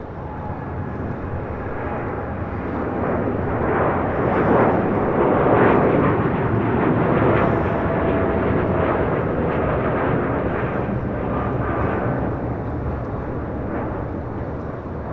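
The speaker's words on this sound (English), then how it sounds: "This is Air Tahiti Nui Flight 8, taking off to Paris on a 787-9 Dreamliner." An Air Tahiti Nui Boeing 787-9 Dreamliner takes off from LAX bound for Paris, its deep roar swelling to a peak midway and then holding as a heavy rumble.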